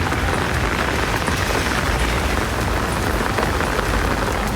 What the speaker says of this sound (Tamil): ஸ்ரீவைகுண்டம் சுற்றுவட்டார பகுதிகளில் மழை பெய்தது